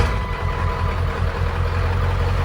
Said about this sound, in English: so it does idle a little bit rougher, more like an OBS